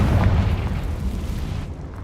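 Bombarda and Confringo spell explosions in a Hogwarts video game: a loud, deep booming blast that rumbles on and slowly fades, with no talking.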